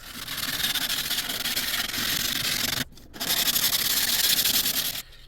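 Steady, continuous abrasive sanding of epoxy on a carbon fiber RC boat hull, loud and close, with two brief pauses before the rubbing resumes.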